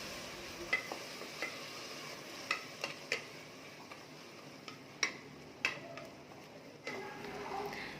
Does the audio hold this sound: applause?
no